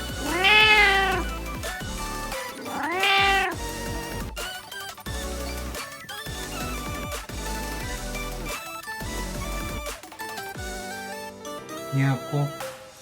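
An old, loud-voiced cat meows in a funny, drawn-out way, its long rising and falling wails repeating close by over several seconds, with quieter chirps and background sounds toward the end.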